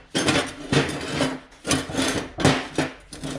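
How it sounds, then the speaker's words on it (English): Flap wheel on a grinder scuffing and cleaning up a cut section of steel exhaust pipe from a DIY exhaust kit, heard as repeated close, loud rasping passes, each about a second long with brief pauses between strokes. "clean it up with the flapper wheel"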